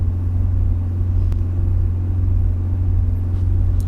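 A Hyundai iLoad van engine with a power-loss fault idles steadily close by, a continuous low rumbling drone with no talk over it.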